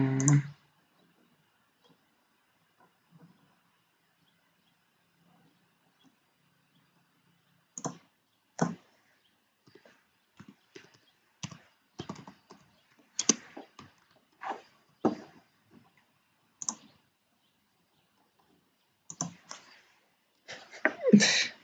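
Sparse bursts of computer keyboard typing in a quiet room, short clusters of sharp clicks separated by long silent pauses, close to the microphone.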